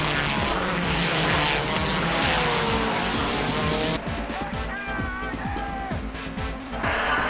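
A Nissan Xanavi Z race car skids under heavy braking and runs off the course, a loud engine roar giving way to tire squeal and scrubbing, with a further car passing.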